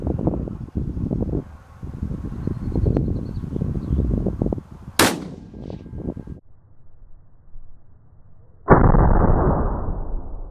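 A single sharp, loud gunshot from a .300 Weatherby Vanguard rifle fitted with a Timney drop-in trigger, fired outdoors in wind, followed by a long roaring decay of the report.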